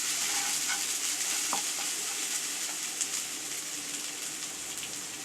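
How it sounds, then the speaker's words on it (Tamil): Egg sevai with turmeric and salt sautés in a pan, giving a steady, close sizzle with faint stirring scrapes throughout. "எல்லாத்தையும் சேர்த்து நல்லா வதக்கிக்கங்க."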